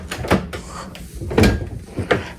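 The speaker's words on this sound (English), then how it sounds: "the first thing you'll have noticed is that door opens perfectly fine" A hotel room wardrobe closet door at the Doubletree by Hilton Times Square West swings open with a few close, moderately loud knocks and creaks from handling at the door, and no voices.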